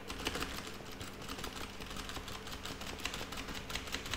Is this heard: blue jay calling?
no